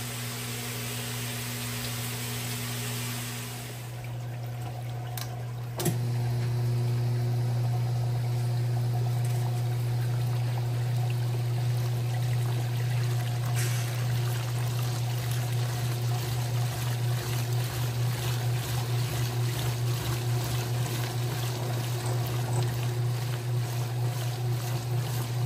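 Electrolux Top8 top-loading washing machine draining water: a steady low hum with rushing water that jumps louder after a few seconds and then holds constant, pump-like and close.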